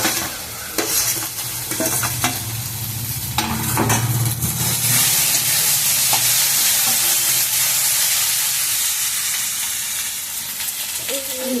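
Potatoes and okra stir-fry in a pan with a continuous close sizzle and hiss, broken by frequent spatula scrapes and knocks against the pan, with no talking.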